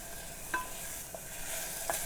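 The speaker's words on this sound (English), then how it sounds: "our vegetables have now sautéed sufficiently" Vegetables sauté in a pan for a beef lasagne, giving a soft steady sizzle with a few light utensil taps, quiet and close, and no voices.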